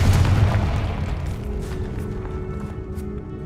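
A Confringo fire spell blasts in Hogwarts Legacy as a deep booming burst at the start, fading into a rumbling low tail with faint scattered clicks and a steady low hum.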